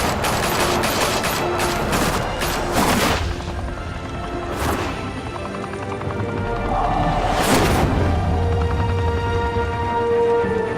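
Heavy gunfire rattles through a shootout in Batman: The Telltale Series, with repeated sharp bursts and booming shots over continuous clatter and impacts, loud and close throughout.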